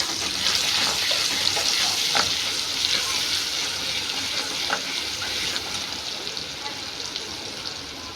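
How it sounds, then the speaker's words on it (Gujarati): Masala paste being stirred into tomatoes frying in a pan while cooking green cowpea (chori) curry, giving a steady broadband sizzle with occasional faint scrapes from the spoon throughout. "આપણે ઉમેરી લઈશું મસાલા જે પેસ્ટલ મસાલો કર્યો હતો ને મેં થોડી વાર હલાવી લઈશું"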